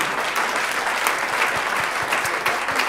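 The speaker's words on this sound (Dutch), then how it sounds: "applaus nog één keer voor Miel" An audience at a local awards evening breaks into dense, steady applause for a prize winner, many hands clapping at once and filling the room evenly from start to finish.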